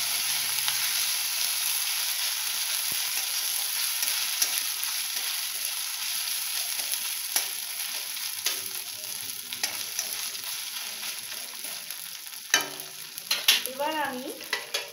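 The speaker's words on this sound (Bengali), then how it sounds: "আদা বাটাটা দিয়ে একটু নেড়ে নেবো" Ginger paste frying in a pan for dal shuktani, a steady soft sizzle under scraping stirring strokes, with a few sharper clinks of the utensil near the end.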